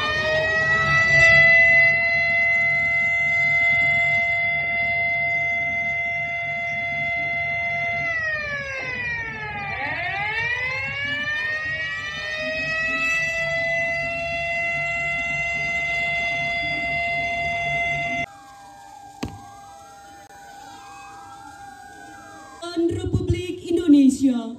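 A loud civil defense siren at an Indonesian Independence Day flag ceremony in 2022 holds a long steady wail, then winds down with sliding tones, followed by quieter pitch sweeps and a burst of noise at the end.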